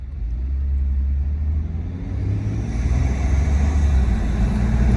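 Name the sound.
Ford F-150 accelerating, intake noise from aFe cold air intake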